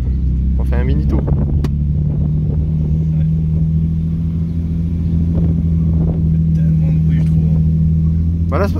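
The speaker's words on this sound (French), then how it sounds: "elle monte toute seule dans les tours, c'est pour ça que ça fait un bruit de ouf" A swapped car engine stuck at high revs gives a loud, steady droning roar that barely changes, while people talk over it now and then.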